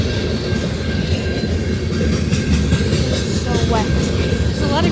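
A CN mixed freight train led by an ES44AC locomotive rolls past in the rain at Abbotsford, BC, its wheels clattering loudly and steadily up close with a few brief squeals near the end.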